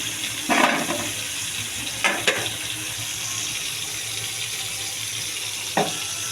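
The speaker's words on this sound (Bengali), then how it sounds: "এটাকে আমি একটু ভেজে নেব," Frying in a home kitchen pan, with a steady broadband hiss throughout and a few louder scrapes or clatters near the start and one near the end. No one speaks.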